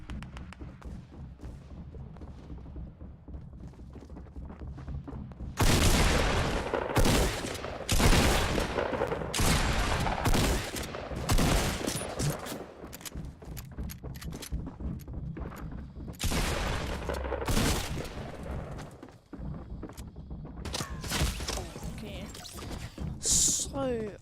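Constant gunfire rattles through Tilted Towers in the video game Fortnite. The first few seconds are quieter, then dense, loud bursts and overlapping volleys of shots continue almost without pause to the end, with a voice heard at times.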